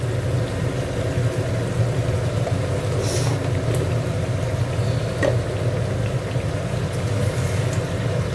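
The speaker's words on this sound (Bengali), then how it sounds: "দেখো এখানে সাদা তেল দিয়েছিলাম, এবার একটু ঘি দিয়ে দিচ্ছি।" Ghee hitting hot white oil while chicken fries, giving a steady, even sizzle and crackle that stays at one level throughout with no talking.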